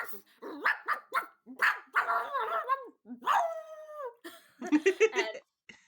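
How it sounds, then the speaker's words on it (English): A cartoon dog barks in a string of irregular bursts, mixing short yaps with drawn-out, wavering howl-like tones. Each burst is fairly close and separated by brief gaps. "that's as much dog noise as you hear"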